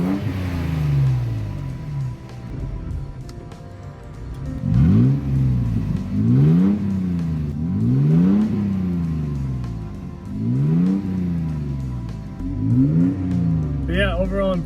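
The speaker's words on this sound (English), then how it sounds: "So we'll do some revs here real quick." A 2nd gen Toyota Tacoma pickup with exhaust cutouts open is revved repeatedly, each loud rev rising and falling in a series of close, throaty bursts over a rumbling idle, with a voice briefly under the engine.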